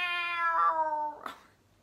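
A human voice imitates a loud cat meow, one drawn-out, rising then falling meow followed by a short breathy trailing sound.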